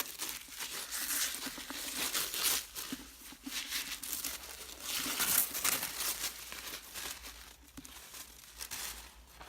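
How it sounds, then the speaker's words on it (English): Tissue paper crinkles and rustles close by in bursts, loud crumpling as a book is unwrapped from a subscription box and handled, no talking. "Always nicely wrapped in tissue paper."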